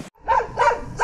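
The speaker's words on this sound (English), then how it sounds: "There's this one dog that always follows me and barks at me. That's him." Street dog in North India barking three times close by, sharp evenly spaced woofs over a quiet outdoor background.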